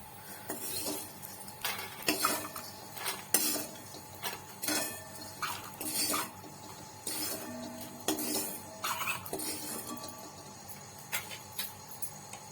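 Laddu ingredients being dry-roasted in a pan with ghee, heard as repeated metal spoon scrapes and clinks against the pan in an irregular rhythm, close and moderately loud, with faint sizzling between strokes.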